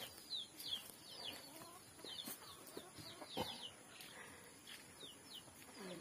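Chickens clucking around a rural yard at about five in the afternoon, scattered soft clucks and chirpy calls at moderate distance over a faint steady background hum.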